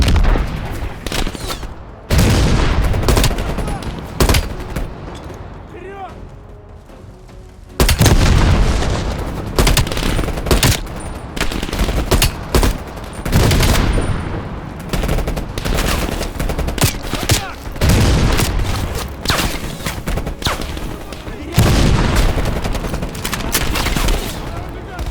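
Anti-aircraft gun fire and RPG blasts in a combat scene from the video game Call of Duty Black Ops Cold War, made up of loud, dense, continuous bursts of gunfire and booming explosions with brief lulls.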